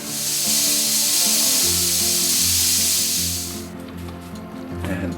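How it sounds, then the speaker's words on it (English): Steam hisses loudly and steadily from a pressure cooker being vented gently after cooking pumpkin, a broad continuous rush that holds for several seconds before fading out, with faint kitchen clatter afterward. "Same process, just let the steam out very gently."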